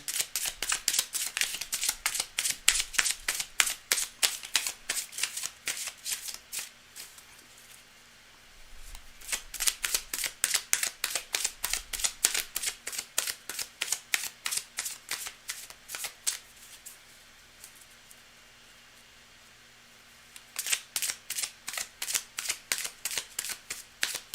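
Tarot cards are riffled and shuffled by hand in three bursts of rapid, crisp flicking and slapping, close up and clear, separated by quieter pauses.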